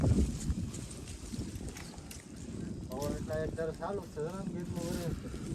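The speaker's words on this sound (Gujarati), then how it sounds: "પવન જ એવો છે આજ" Steady strong wind buffets the microphone throughout during a rain and wind storm, with people talking over it in the second half.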